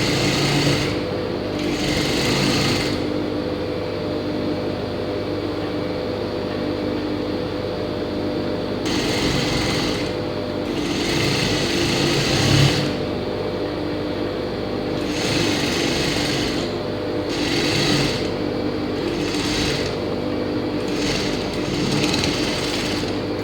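A sewing machine stitches pant fabric, running in several separate bursts of rapid, steady mechanical chatter close by, with short pauses between the runs.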